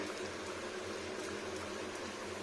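Mustard greens pakora deep-frying in plenty of hot oil, giving a steady, dense bubbling hiss that holds evenly throughout at moderate loudness with no talk.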